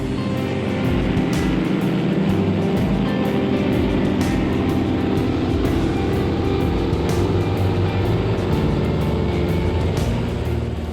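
Inside a helicopter on a slow, gradual descent to land, a continuous, even rotor and engine drone fills the cabin, steady and close, with faint periodic thumps over a broad rushing roar.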